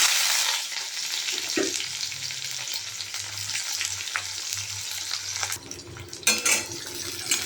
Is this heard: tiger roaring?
no